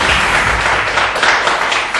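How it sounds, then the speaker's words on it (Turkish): Studio audience applause on a Turkish quiz show, a steady broadband wash of clapping lasting about two seconds at moderate loudness, with no speech over it. "Zor soru değil alkış."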